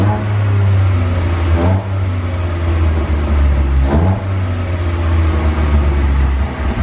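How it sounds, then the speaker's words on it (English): A BMW M2 Competition fitted with a Remus exhaust, valves closed, idles with a deep steady drone and is revved twice, each quick blip rising and falling back to idle. The exhaust is close and loud, and no one speaks. "he's just going to do a few revs for us. Firstly, it's going to be valves closed"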